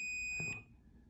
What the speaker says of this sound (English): it should beep when you touch it, you know, when you have continuity like that